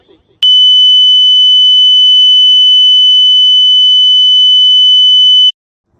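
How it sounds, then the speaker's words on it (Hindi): A steady, loud electronic tone played from a mobile phone, holding one pitch for about five seconds before cutting off abruptly into silence. "आइए सुनते हैं कैसी धुनें चलाते हैं ये लोग मोबाइल पे"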